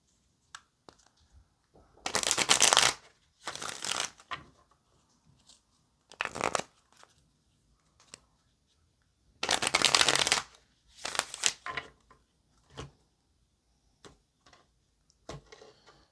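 A deck of tarot cards is shuffled up close in several quick riffling bursts, each a crisp flutter of a second or so, separated by quiet gaps and soft taps of the cards.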